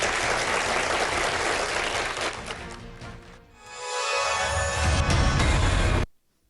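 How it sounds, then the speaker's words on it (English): Audience applause at the close of a Michigan gubernatorial debate, sustained loud clapping that dips briefly, then swells again before cutting off abruptly. "Now you may applaud."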